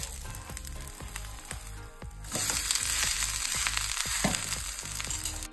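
Besan and sattu adai cooking on a pan after being flipped, a steady close frying sizzle that grows louder and brighter midway, with no one talking.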